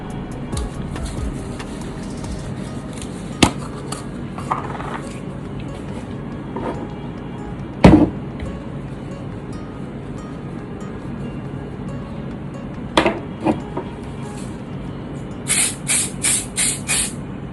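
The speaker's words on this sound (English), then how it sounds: "I'm just going to go ahead and apply setting spray" Setting spray is misted onto a face in several short hissing bursts near the end, with scattered handling noises and faint background hum before them.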